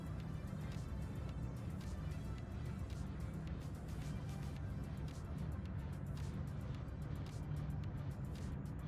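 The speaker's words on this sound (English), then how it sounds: "I hear the cars idling." Steady low engine rumble from several racing cars idling together in the video game Project Motor Racing, a continuous broadband drone that holds level throughout with no revving.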